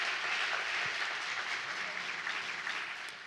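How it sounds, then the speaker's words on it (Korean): Audience applause for three professors at the close of a science lecture and panel discussion, a steady, dense wash of many hands clapping at moderate distance, continuous throughout and thinning slightly toward the end. "세 분 교수님께 큰 박수 부탁드리겠습니다"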